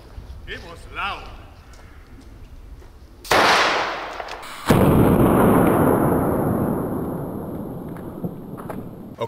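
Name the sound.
black powder shotgun firing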